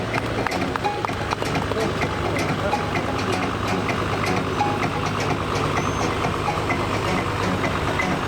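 A heavy truck balancing on a tilted track at a stunt show, its engine rumbling low and steady throughout while an announcer talks over it with the crowd noise.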